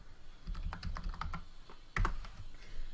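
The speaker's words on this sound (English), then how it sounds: "Go ahead and type in a song name." Rapid typing on a computer keyboard while a song name is entered into a search box, steady clattering keystrokes close by with a slightly louder burst of taps near the end.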